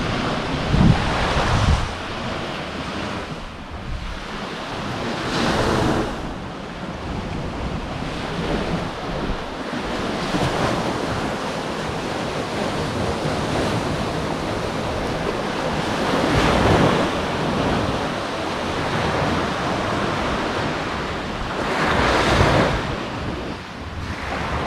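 Surf washing ashore at Treasure Beach in St. Elizabeth, Jamaica, a steady roar of breaking waves with swells rising every few seconds, mixed with gusty wind buffeting the microphone and no one talking.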